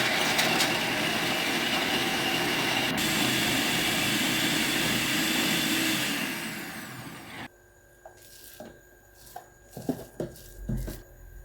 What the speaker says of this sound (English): So I'm gonna blend this first before I add the other ingredients.